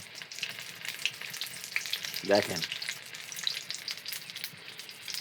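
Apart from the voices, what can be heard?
pumpkin flower fritters with rice paste frying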